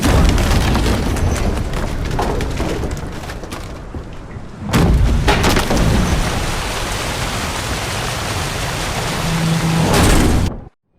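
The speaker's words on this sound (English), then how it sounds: "Didn't bargain for no storm." A storm at sea lashes a boat in a fantasy game, loud driving rain and wind roaring throughout with heavy thunder booms, the roar briefly dropping then surging back before cutting off.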